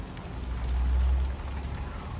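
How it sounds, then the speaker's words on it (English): Rain beginning to fall outside a garage where a Jeep Wrangler camper is parked, a steady soft patter with a low rumble that swells briefly midway. "Of course, it's starting to rain, guys."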